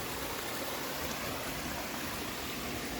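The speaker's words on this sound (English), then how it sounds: "Kind of just sit and listen to the water go." A small stream spilling over a little waterfall on a wilderness stretch of the Appalachian Trail gives a continuous, even rushing hiss of flowing water, steady and unbroken with no voices.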